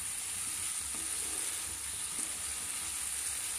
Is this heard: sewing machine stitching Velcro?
no